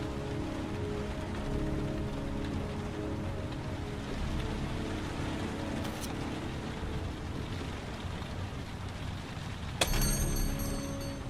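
Rain falling in the video game Heavy Rain, a steady soft patter on surfaces with faint low rumble and a brief clatter near the end.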